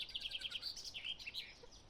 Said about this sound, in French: il y a pas mal d'oiseaux un peu partout là